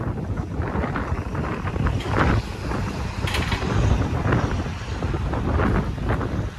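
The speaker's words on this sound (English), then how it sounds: "it's windy today" Steady wind buffeting the microphone, a loud low rumble with gusty swells throughout, no voices.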